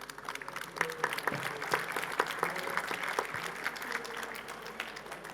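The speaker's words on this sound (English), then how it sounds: "please give them a round of applause" Audience applause for guests of a population health panel discussion, with steady mid-level clapping throughout and a few sharper individual claps standing out.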